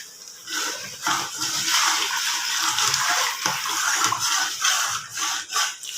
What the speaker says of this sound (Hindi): अब हम इसमें शामिल करने लगे हैं पानी